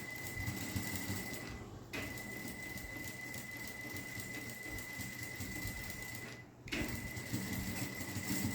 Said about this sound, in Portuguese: Agora, eu vou ir lá na máquina e vou passar uma costura de pesponto